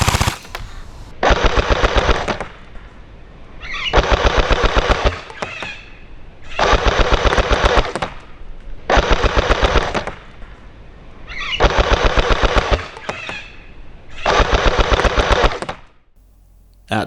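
A Sturmgewehr 44 gel blaster fires in six long rapid bursts of sharp, loud shots separated by short pauses, with no talking over them.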